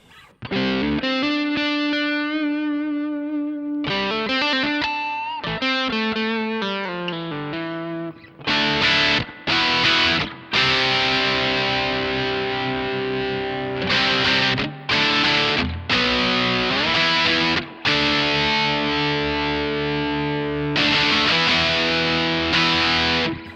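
A heavily distorted electric guitar through a Boss DS-1 distortion pedal at high drive plays, first single notes, then loud raspy chords chopped by brief pauses.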